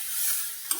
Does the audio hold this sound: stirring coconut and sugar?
yes